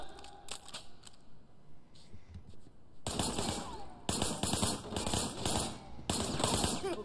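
Rapid gunfire in a Sleeping Dogs firefight: after quiet ambience, close, loud bursts of shots rattle in quick clusters for several seconds.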